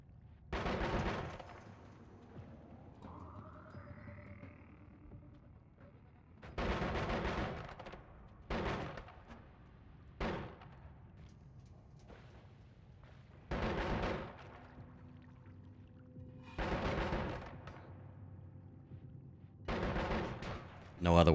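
Gunfire from two snipers and a rifleman in the Noita video game, heard as loud separate bursts at irregular intervals with quieter gaps between, some followed by a short rising sweep.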